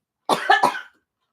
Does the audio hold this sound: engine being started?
no